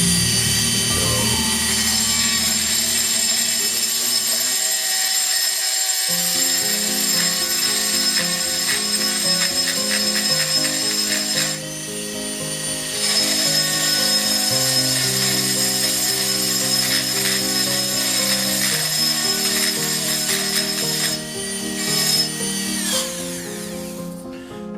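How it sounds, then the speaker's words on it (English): A Dremel rotary tool fitted with a small conical bit grinds jimping notches into a steel knife spine, a loud, steady high-pitched whine with shifting tonal pitch running continuously, briefly dipping around the middle, with no talking. "I've got my Dremel, and we've got a Dremel bit on there,"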